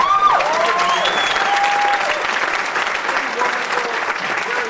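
A crowd applauds for Representative Mimi Stewart, loud and sustained throughout, with a few whistles and scattered voices mixed in.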